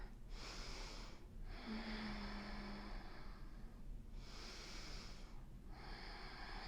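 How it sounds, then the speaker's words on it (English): Slow, deep breathing during a yoga neck stretch, two long breath cycles of soft airy inhales and exhales, close and quiet with no talking. "2 breaths here."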